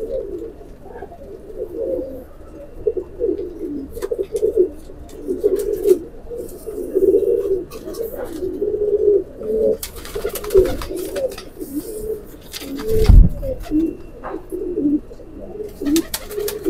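Rampuri pigeons coo steadily at close range in a loft, a soft, continuous throaty burbling that carries on for the whole stretch with a few wing flutters and knocks along the way.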